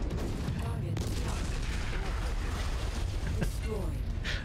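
Enemy fire in MechWarrior 5: Mercenaries, a dense, continuous rumble of gunfire and impacts with scattered sharper bursts. It stays steady throughout, with some faint voice-like sounds mixed in.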